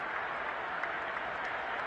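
A football stadium crowd at a Houston Texans game applauds in a steady, even wash of clapping heard from a distance, with a commentator's voice faintly under it.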